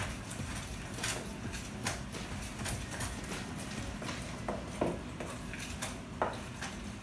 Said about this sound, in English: Mix all your wet and dry stuff.